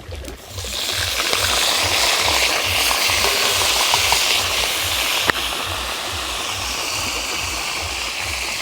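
Ginger-garlic gravy sizzles loudly and steadily in a hot pan for dal, a continuous broadband frying hiss with a brief clink of a utensil partway through.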